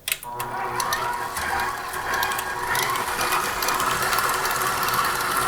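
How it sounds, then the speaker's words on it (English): A stand mixer creams butter and cream cheese frosting, giving a continuous close mechanical whir with rattling beater clatter after a brief start-up knock, and no talking. "Stand mixer, let's do it."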